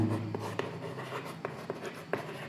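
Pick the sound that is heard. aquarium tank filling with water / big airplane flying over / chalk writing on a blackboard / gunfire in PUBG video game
chalk writing on a blackboard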